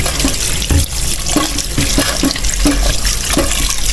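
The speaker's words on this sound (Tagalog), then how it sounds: "So, hugasan natin" Food being washed under a running tap, a loud steady gush of water with irregular splashes and clinks as it is handled in the sink.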